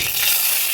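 Panch phoron spices drop into hot oil and sizzle, a short, loud, dense crackling hiss lasting under a second with no voices.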